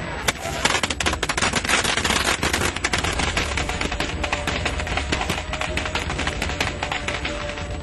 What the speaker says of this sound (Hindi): देखिए बाबा यहाँ लड़ी पटाखा छोड़ रहे हैं